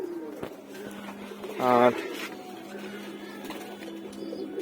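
A pet racing pigeon gives a short, throaty coo in the middle of a person's talking, with a steady low hum of the surroundings behind it.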